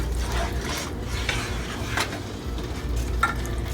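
Thai curry with coconut milk simmering and being stirred in a pan on medium heat, giving a steady low bubbling sizzle with soft scraping strokes throughout.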